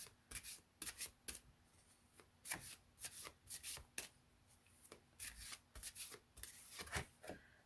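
A deck of oracle-style empowerment cards being shuffled by hand, a close, quiet series of rapid riffling and sliding bursts in an uneven rhythm, with no talking.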